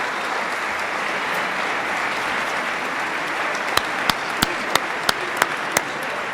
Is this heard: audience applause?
yes